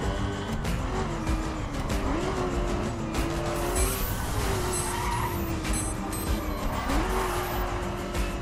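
A racing game car driven on the road in The Crew, with a steady engine drone, repeated tire squeals and skidding, and a collision with another vehicle, loud and continuous throughout.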